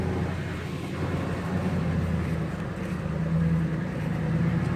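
Engine of a car held at a steady fast idle of about 1200 RPM after a head gasket sealant treatment for white exhaust smoke, a continuous low hum with an even drone throughout.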